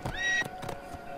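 A single high, wavering horse whinny rises briefly, followed by a few soft clip-clop hoofbeats; no speech.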